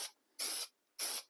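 Spray adhesive hisses from an aerosol can onto paper in three short close bursts, each about a quarter second long, separated by silence.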